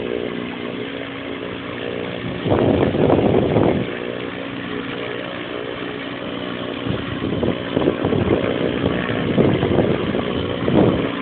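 Ikarus C42 light aircraft engine running at an airfield, a steady buzzing propeller drone with surges of louder revving and rough bursts, close by.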